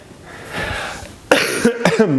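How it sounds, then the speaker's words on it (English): A sharp, loud cough bursts out after a quieter stretch of low murmuring, followed by a couple more short throaty coughs close to the microphone. "Cough."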